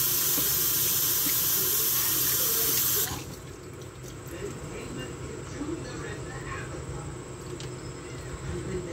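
Tap water runs loudly into a sink for rinsing for about three seconds, then cuts off abruptly, leaving quieter room sounds and faint background voice afterward.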